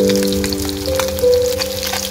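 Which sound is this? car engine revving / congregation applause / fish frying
fish frying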